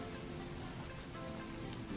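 Rain falls steadily over a swimming pool during a family trip to Hampi, a soft, dense patter of drops on the water, fairly quiet and even throughout.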